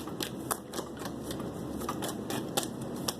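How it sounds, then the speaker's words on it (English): Tarot cards drawn and handled during a reading, a steady run of crisp card shuffles and soft flicks repeating every fraction of a second, close and fairly quiet with no voices. "I'm going to take some more cards on this as well."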